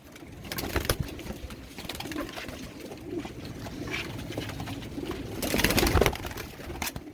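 Pigeons coo softly and repeatedly, several birds overlapping at close range, with occasional wing flutters and rustling in the background.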